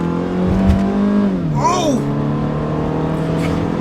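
A car on the highway accelerates hard, engine revving loudly and climbing in pitch through a gear change, with a brief spoken exclamation over the close, steady engine roar.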